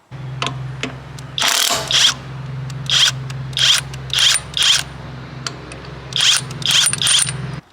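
A cordless OLMLMO 1/2-inch drive impact wrench, rated 800 ft-lbs, fires in about ten short, separate bursts over a steady low hum, each burst a sharp, loud, rattling whir close by.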